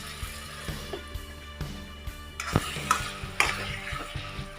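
Mashed pumpkin bharta fries in a pan while a spatula stirs it, giving soft sizzling under a run of regular scraping knocks on the pan, close and alone with no voices.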